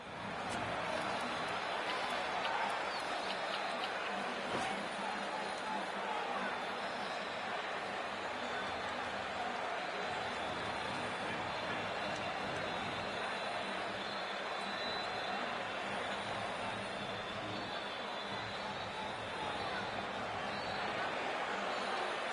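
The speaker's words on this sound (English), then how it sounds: "it's a loud crowd as the players make their way out" A loud stadium crowd roars steadily as players walk out in the Cricket 24 video game, a dense continuous wash of cheering that holds without a break.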